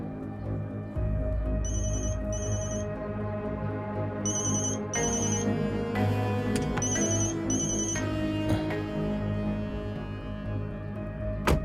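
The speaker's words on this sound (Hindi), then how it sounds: "किसका फोन था?" A phone rings with repeated electronic ringtone bursts in pairs over a quiet musical background, no talking.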